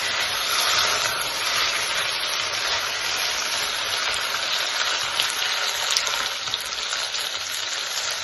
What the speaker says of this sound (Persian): من الان بهش آب داغ اضافه میکنم